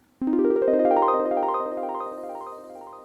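A bright synth fill of quick, repeated notes climbing upward, each echoing through delay and reverb, then slowly washing out into a fading tail.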